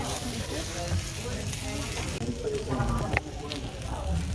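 A surf and turf steak with shrimp and asparagus sizzles on a hot plate at a Denny's in New Zealand. The frying hiss is steady and close, with faint restaurant voices underneath.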